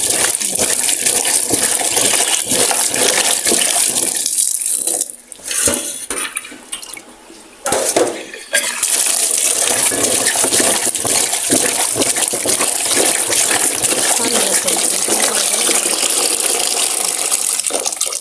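Potatoes are washed under a running kitchen tap, a loud, close, continuous gush of water that briefly drops and sputters midway before resuming full flow.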